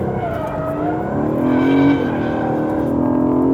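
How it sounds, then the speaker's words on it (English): A car exits a drift at full throttle, its engine roaring loudly and close with a steady, slightly rising pitch as the speed builds, tyre noise mixed in beneath the strained drone. "now I'm on full throttle, and eventually the car speed just comes up to match the speed of the tyres, and you drive off."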